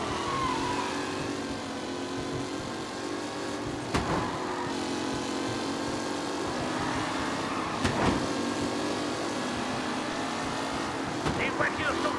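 Race cars roar around a circuit in the video game Mafia, their engines droning steadily for several seconds with occasional sharp bursts, while a voice talks over the racing.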